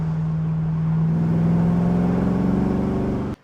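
A 1970 Chevrolet Chevelle SS restomod with a supercharged 6.2L V8 drives along, a loud, close, steady engine drone with a low hum that ends abruptly.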